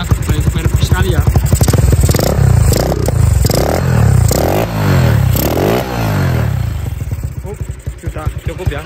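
A Honda CB motorcycle engine is revved hard several times in a row, each loud blip climbing and falling, close by, with some mechanical clatter between the rises.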